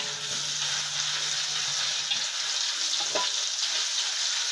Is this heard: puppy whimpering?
no